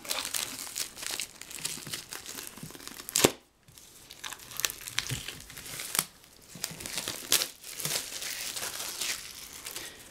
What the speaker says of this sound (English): let's see if we can carefully cut away the plastic